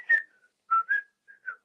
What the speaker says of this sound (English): We're almost to the part where I start to whistle.